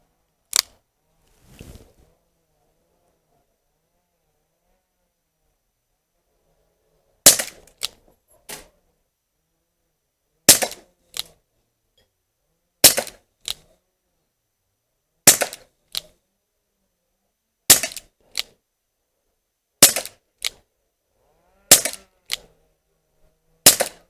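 An Umarex UX Tornado CO2 revolver firing steel BBs: about ten sharp, dry cracks spaced roughly two seconds apart, each followed by a faint mechanical click, with near silence between shots.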